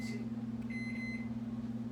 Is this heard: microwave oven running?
yes